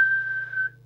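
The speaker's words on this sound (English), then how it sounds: "We'll just check with the whistle test." A steady, single-pitched whistle blown into the microphone of a Maxon MX1000 CEPT CB radio for a transmit test, held clean and fairly loud for under a second before it fades, with a low hum underneath.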